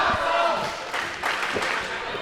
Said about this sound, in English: The crowd chanting, this is awesome here at Jamestown